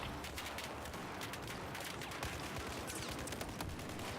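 Gunfire crackles in an online shooter game played on a Russian server, a dense, steady burst of rapid shots filling the few seconds with no voice over it.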